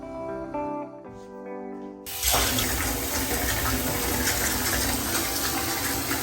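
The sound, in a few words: bathtub filling with water from the tap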